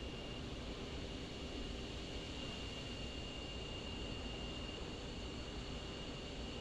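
Steady, continuous engine drone of an aircraft in the DCS World flight simulator, parked with the canopy open, a dense broadband roar with a constant high whine, unchanging and loud throughout with no voices.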